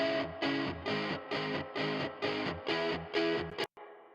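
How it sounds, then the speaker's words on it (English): Electric guitar through spring reverb, strummed chords in an even rhythm, about eight strokes with distorted tone, ending in an abrupt stop and a short reverb tail. "Just adds a little bit of spring reverb."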